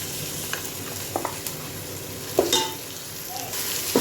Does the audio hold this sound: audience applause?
no